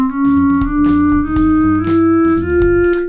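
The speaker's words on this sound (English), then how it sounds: "The chromatic scale is the musical scale which goes up in every semitone." A chromatic scale climbs upward one semitone at a time as a steady, sustained pitched tone with low accompanying notes, played continuously and alone for about three seconds.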